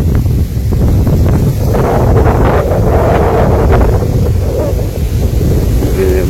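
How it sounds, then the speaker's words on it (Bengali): Strong wind and heavy rain in a village, a loud continuous roar of gusts buffeting the microphone with a dense hiss of falling rain beneath, constant throughout. "প্রচুর বাতাস, আবার বৃষ্টি হইতেছে, গড়ি গড়ি বৃষ্টি পড়তেছে।"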